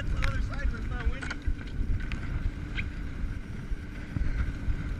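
A Skeeter boat pounds through rough, windy water, its engine drone mixed with heavy wind buffeting and splashing throughout, with voices briefly heard over it.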